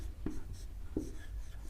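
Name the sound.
writing while teacher notes down input devices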